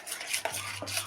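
Chopped dried fruits being stirred into thick homemade shrikhand, with a spoon scraping and clinking against the bowl in short, close strokes over a steady low hum.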